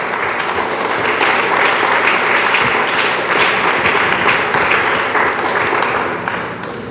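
A large church congregation applauds steadily, dense clapping that holds for several seconds before starting to taper off.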